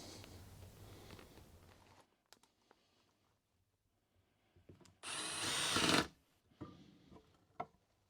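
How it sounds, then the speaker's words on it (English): A power drill drives screws while building a portable, levelable outfeed workbench in a small shop, with a few short bursts and one longer loud run of a second or so, separated by quiet clicks and handling sounds. "just be driving screws"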